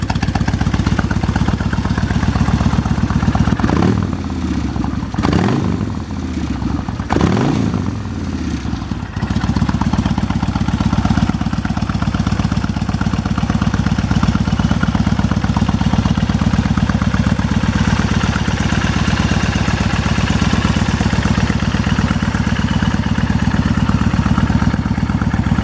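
A 2007 Kawasaki Vulcan 1600 Nomad cruiser cranks over with a few uneven bursts, then settles into a steady, loud, close idle through its dual mufflers that runs on without any talking.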